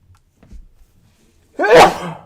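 A single loud sneeze bursts out after a stretch of near silence with only faint soft rustles.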